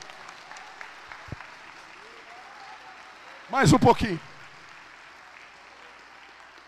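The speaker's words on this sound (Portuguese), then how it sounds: "quem crê, aplaude e glorifica esse Deus aí" A church congregation bursts into loud applause for under a second, midway through the clip; beforehand there is only a quiet room with a faint voice speaking.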